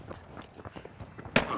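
Quick footsteps from a player in the video game The Finals, a run of soft close steps ending in a sharper, louder thump.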